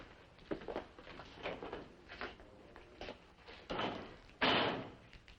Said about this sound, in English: you can use the hall door, Mr. Grumman.